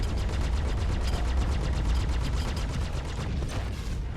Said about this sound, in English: Look at that explosion!